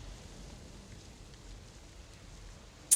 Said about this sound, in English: I queued the rainstorm up just as you said